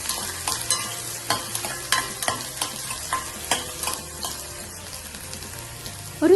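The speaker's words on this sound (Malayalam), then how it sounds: "ഇനി ഇഞ്ചി അരിഞ്ഞത്, വെളുത്തുള്ളി അരിഞ്ഞത്, 3 പച്ചമുളക് അരിഞ്ഞത് ചേർത്ത് നന്നായി ഇളക്കി കൊടുക്കാം" Chopped ginger, garlic and three green chilies stir-fried in a pan, with a steady run of rhythmic spatula scrapes over a soft, constant sizzle, close and alone without voices.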